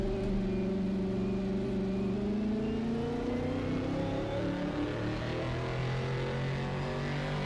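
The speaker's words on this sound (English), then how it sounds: "Some serious wheel spin here there coming out of pits." Engine roar of a 1960s GT race car in a sim racing game, revving hard with wheel spin as it pulls out of the pits; a steady, loud motor drone with rising pitch that continues without a break.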